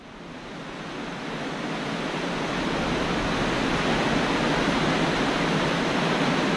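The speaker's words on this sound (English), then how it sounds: "this waterfall here, it's really strong, it's rushing, and it has a beautiful sound to it" The Barranca del Cupatitzio waterfall roars in a strong, steady rush of falling water, a broad continuous wash that swells slightly at the start and then holds loud and even, with no voices.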